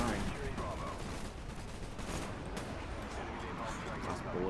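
Gunfire in Call of Duty Black Ops on the Nuketown map comes as a quiet, dense run of rapid shots with a bit of background game noise, faint and continuous throughout.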